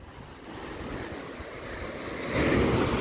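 Sea waves wash against the shore with steady broadband surf noise, growing louder near the end, mixed with gusty wind buffeting the microphone.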